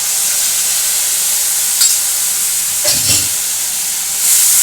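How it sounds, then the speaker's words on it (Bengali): Spice paste for potol dorma frying in a pan, a loud continuous sizzle and hiss filling the space, broken by a few brief scrapes of stirring. "দিয়ে এটা একটু এখন একটু নাড়াচাড়া করবো।"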